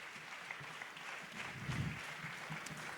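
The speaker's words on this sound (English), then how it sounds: "can we give them another round of applause?" A school annual day audience claps for a Grade 5 class, a short, moderately quiet stretch of applause that swells slightly in the middle.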